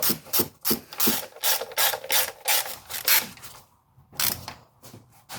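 A ratchet tightens bolts on a Honda CR-V, a quick run of rhythmic clicking strokes up close, pausing briefly before a final short burst of clicks.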